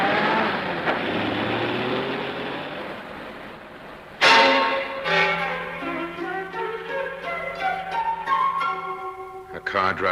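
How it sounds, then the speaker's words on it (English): A car pulls away on a roadway, a steady rumble followed by a sharp door-like thump and an engine revving up through gears, loud and close, then fading unevenly. "A car drives away."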